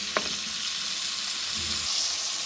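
Mixed vegetables with peas and potatoes frying in a pan, a constant bright sizzle that holds the whole stretch, with one sharp tap near the start and a low rumble partway through.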